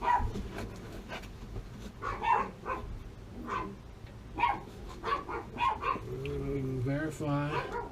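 Several dogs barking in repeated bursts close by, a mix of deep woofs and higher yips, heard over and between a man's speech.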